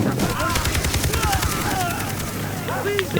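Rapid bursts of automatic gunfire in the video game Far Cry 3 crackle in quick rhythmic volleys, with voices talking underneath.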